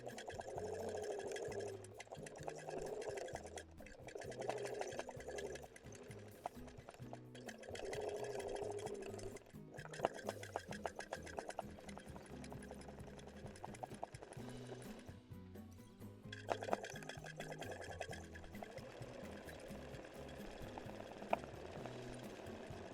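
Sewing machine running a fixed-width zigzag stitch for free-motion embroidery of letters, a steady rapid mechanical chatter that speeds up and pauses in bursts, close and continuous with no talking.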